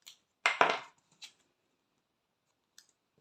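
Scissors snipping paper strips for card-making banners: two quick close cuts followed by a couple of fainter clicks in a quiet room.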